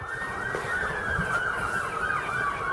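A siren wails continuously, its pitch sweeping up and down in a steady cycle, heard at some distance from an allotment garden over low background noise.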